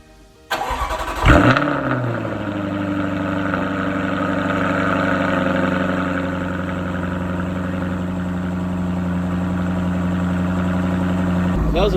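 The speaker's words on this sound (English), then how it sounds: "That was a pretty loud startup." A Jaguar F-Type R engine cold-starts with a sudden loud crank and bark, then settles into a steady, deep, close idle that continues evenly to the end.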